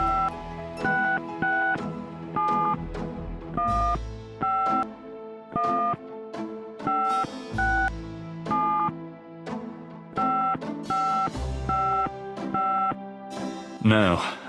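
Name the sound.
telephone being dialed in video game Gabriel Knight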